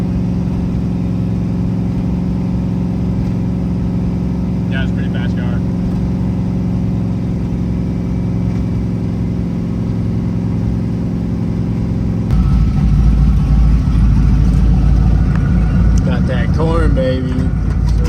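Twin turbo Chevrolet Caprice engine holding a steady deep drone, then swelling louder and rougher partway through, with people talking over it.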